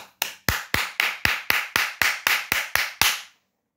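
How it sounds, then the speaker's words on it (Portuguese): Eleven sharp, evenly spaced hand claps from one person in a kitchen after cooking Angolan feijoada, loud and close, in a steady quick rhythm before stopping abruptly. "Merece até um, um aplauso, né?"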